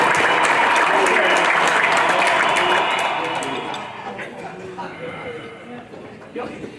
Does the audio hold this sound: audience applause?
yes